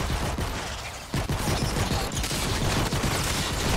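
Gunfire in the video game Fortnite: Save the World, with a pistol in use, sounds as a thick, continuous barrage of loud overlapping shots and mechanical clatter, steady and close throughout.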